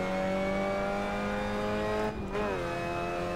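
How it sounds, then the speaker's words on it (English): Mazda MX-5 race car engine in a sim racing game, held steady on the pit limiter with a constant buzzing drone and a brief dip and recovery near the end; loud and continuous, no talking. "We're on the pit limiter is what it is."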